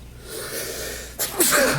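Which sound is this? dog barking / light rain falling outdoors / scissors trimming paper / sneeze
sneeze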